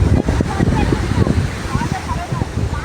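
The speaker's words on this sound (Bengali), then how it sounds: "সমুদ্রের গর্জন শুনতে পাচ্ছেন," Loud, steady roar of the sea mixed with strong gusting wind at a rocky beach crowded with tourists, a broad continuous rumble with surging waves and no clear breaks.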